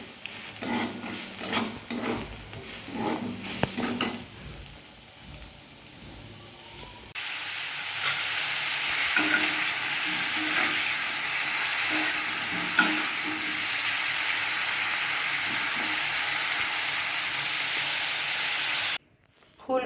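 Potato pieces fry in a pan for a home fish and cauliflower curry meal, giving a loud, continuous sizzle. Stirring clatters through the first few seconds, then the frying settles into a steady hiss.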